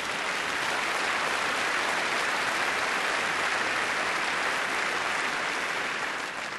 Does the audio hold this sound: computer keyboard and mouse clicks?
no